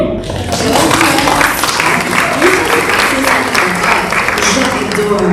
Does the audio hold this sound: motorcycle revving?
no